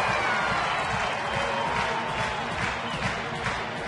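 Baseball crowd at Coors Field applauding and cheering, a dense, steady wash of clapping and crowd noise filling the whole stretch.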